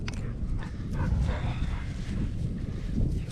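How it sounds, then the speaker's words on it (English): Two dogs, Bella and Smokey, are out at night, giving short yips and whimpering barks nearby over a rustling, restless background with no talk. "Here we are back out with the dogs. It's Bella and Smokey."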